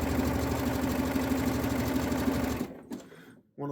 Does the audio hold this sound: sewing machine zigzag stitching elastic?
yes